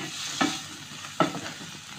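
Peas and carrots fry in garlic-ginger paste while a spoon stirs them, with three distinct scraping strokes spaced evenly over a steady, close sizzle.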